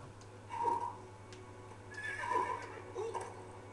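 Horse whinnying in the LEGO Lord of the Rings video game, two clear neighs a second or so apart over a low steady game background hum, with no talking.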